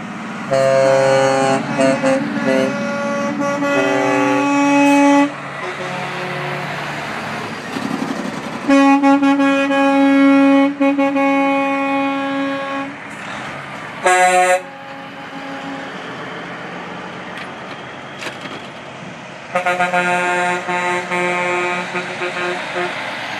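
A long convoy of trucks at the annual Transport for Christ event sounds loud air horns in repeated blasts, some sustained and some short, with engine rumble and passing traffic between the horn calls.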